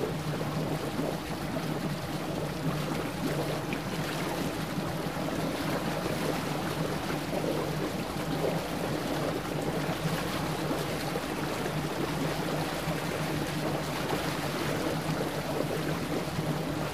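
A wooden boat moves on open water, with a steady, full wash of water and wind-like rush that holds at an even level throughout and no voices.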